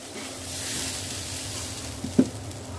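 Bak chang filling of sticky rice with soy sauce is stir-fried in a pan, giving a soft, close, steady sizzle with a brief scrape of the spatula near the end.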